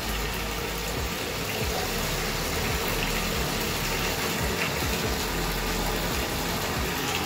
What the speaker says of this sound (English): Now the bath water is running